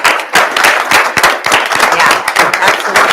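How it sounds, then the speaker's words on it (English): Audience applauding cadets at a school board meeting, a dense burst of hand claps lasting several seconds, with voices mixed in under the clapping. "give everybody a round of applause"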